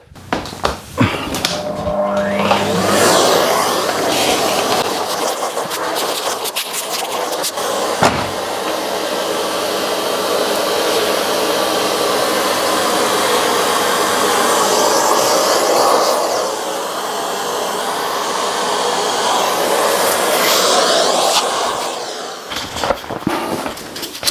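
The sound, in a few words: vacuum cleaner hoovering dust off a car part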